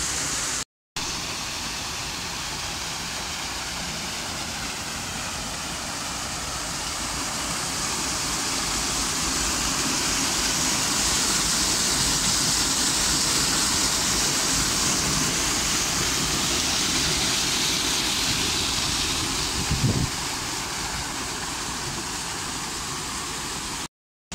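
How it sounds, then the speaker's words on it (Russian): Rushing water from a waterfall in Chiswick Park, London, in spring pours in a steady, broad hiss that swells slightly midway, with no voices over it. "И водопад, конечно же, красиво."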